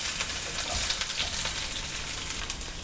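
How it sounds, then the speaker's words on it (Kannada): Two green chilies and a medium onion fry in a pan, a steady close sizzle and crackle with light stirring throughout. "ಇವಾಗ ಚೆನ್ನಾಗಿ ಫ್ರೈ ಮಾಡ್ಕೊಳ್ಳೋಣ."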